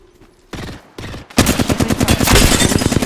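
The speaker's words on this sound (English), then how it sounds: "Getting shot at." Gunfire in the video game Apex Legends: short bursts of rapid automatic shots, then a sustained loud barrage of dense repeated shots close by with no talk.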